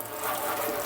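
Water runs steadily from a faucet fed by PEX pipe at an outdoor cooking station, a continuous close hiss with no breaks.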